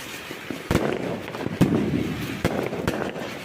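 A Diwali flower pot firework (puswanam) burns on the ground, giving off a steady fizzing crackle broken by several sharp pops, moderately loud and close, with no voices.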